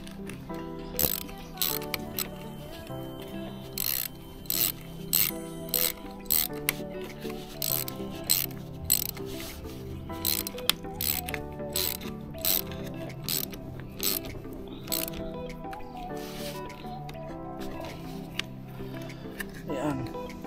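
A ratchet wrench tightens the terminal nut on a Nissan Rogue car battery, giving a steady run of quick, close mechanical clicks in repeated bursts while someone talks over it.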